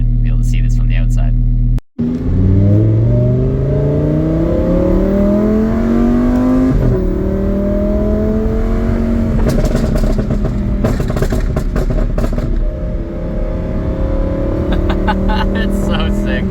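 Lamborghini Huracan with a 670 hp HD Tuning exhaust tune, revving loudly up and down with crackling pops and bangs on lift-off, a person talking over the engine noise throughout.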